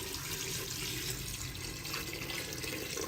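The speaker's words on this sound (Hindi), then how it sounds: "पानी मैं यहाँ पे तकरीबन 1 लीटर ऐड कर रही हूँ।" About a litre of water pours steadily from a tap-like stream into a pressure cooker holding browned goat trotters, a continuous close splashing and gushing fill that lasts the whole time without talk.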